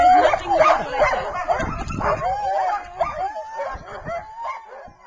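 Several sled dogs at Sheep Creek near Juneau, Alaska yip, whine and bark in overlapping, excited bursts nearby, with high whimpers running throughout.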